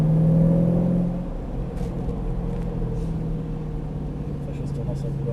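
Engine of a Ford Mustang Shelby GT500 rumbling and building under acceleration, a steady low drone that stays loud throughout, with a brief louder surge at the start and faint talk over it.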